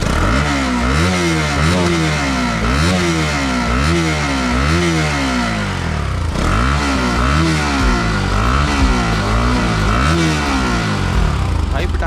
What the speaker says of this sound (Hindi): तो एक बार फुल एग्जॉस्ट देके देखते हैं।